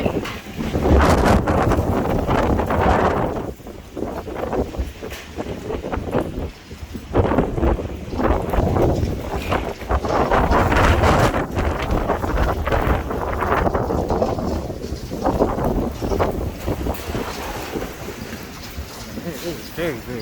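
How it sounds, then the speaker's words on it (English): Strong monsoon wind near downtown Tucson gusting hard into the microphone, a loud continuous roar with surging rises and falls and brief lulls, with someone talking intermittently. "It is very, very windy."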